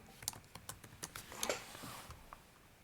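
Quick, light keystrokes on a computer keyboard typing a short web search, a close burst of clicks that slows toward the end in a quiet room.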